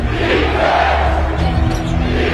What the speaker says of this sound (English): Crowd will stand here till the first Nuggets bucket